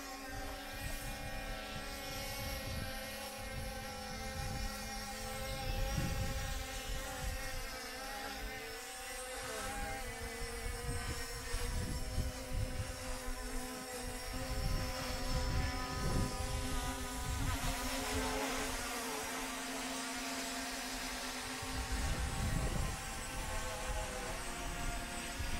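A C-Fly Faith 2 Pro camera drone in flight gives a continuous, fairly faint, insect-like buzzing whine with wavering pitch that holds steady throughout.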